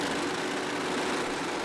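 MotoAmerica superbikes hold their engines at the rev limiter on the starting grid at Virginia, a dense, steady, high-pitched roar from many machines at once without a break.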